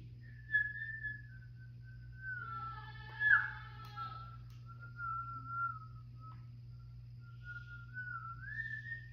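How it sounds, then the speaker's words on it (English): A person whistles a wandering, tuneless melody with sliding pitches, close and fairly quiet, over a steady low electrical hum. "Bro, I whistle when I'm tense, bro."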